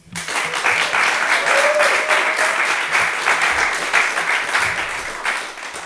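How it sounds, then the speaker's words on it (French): A podcast's live audience breaks into sustained, loud applause for two guests, the French musicians Marion and Louis, dense clapping rising quickly and holding steady with a few whoops over it. "je vais vous demander tout de suite des applaudissements pour mes deux collègues, Marion et Louis"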